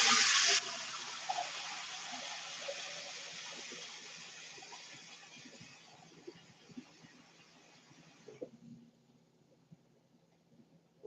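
Tap water runs into a cooking pot for ramen, a bright gush at first that settles into a steady filling rush, then cuts off, leaving faint clinks.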